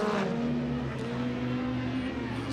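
A Can-Am RS1 UTV races in a production UTV event, its engine holding a steady, loud drone with no break.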